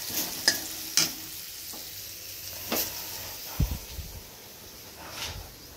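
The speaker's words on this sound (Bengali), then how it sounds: "আর কড়াই করলা ভাজা হচ্ছে" Bitter gourd frying in a wok in a home kitchen, giving a soft, low hiss of oil with a few sharp clinks and scrapes of a utensil against the pan and a brief clatter near the end.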